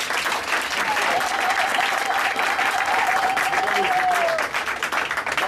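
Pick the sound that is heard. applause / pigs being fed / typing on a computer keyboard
applause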